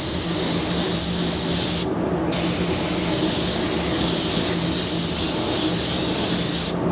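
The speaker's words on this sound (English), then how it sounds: "I'm going to use the 3M gun again" Steady, loud hiss of a 3M HVLP spray gun with a 1.3 nozzle at 20 PSI laying down Ford Ruby Red paint, running continuously with one brief pause near the two-second mark and another cut right at the end.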